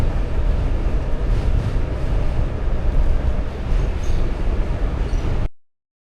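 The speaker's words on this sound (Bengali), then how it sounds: "আমি এখান থেকে ট্রেন ধরে যাব ম্যানহাটনে" A train ride toward Manhattan in New York, with a loud steady low rumble and roar from the moving train throughout, no talk.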